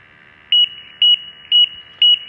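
A gas detector asking for a pump test gives four short, evenly spaced high-pitched beeps, about half a second apart, over a faint electronic hum.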